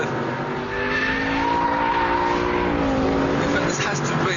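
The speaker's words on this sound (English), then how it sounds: "hit the throttle, second gear, easily controlled power slide" An Aston Martin V8 Roadster accelerates hard in second gear on a track while power sliding, its engine note rising loudly and steadily with tyre noise underneath, under someone talking.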